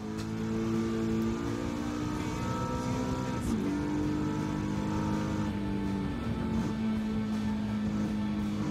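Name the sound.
car engine in a racing video game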